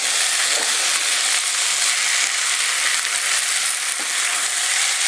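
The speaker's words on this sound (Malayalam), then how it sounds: "ഇനി ഇത് നന്നായിട്ട് ഇളക്കി കൊടുക്കാം." Cooked beef and onions for a Kerala beef roast fry in a pan with a loud, dense, continuous sizzle close by, plus faint stirring scrapes and no talking.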